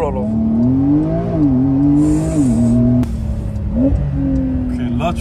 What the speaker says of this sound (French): On va faire un mini launch, un petit 0 à 60.